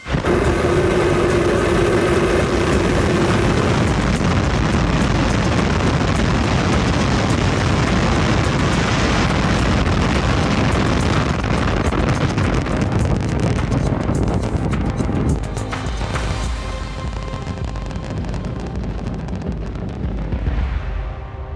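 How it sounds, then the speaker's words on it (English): A rocket lifts off with a loud, sustained rumbling roar that fills the air for many seconds, then eases and grows thinner toward the end. "We have liftoff."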